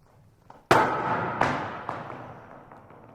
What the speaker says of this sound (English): It's a wooden ball thrown against a basketball hoop in a gym at an abandoned school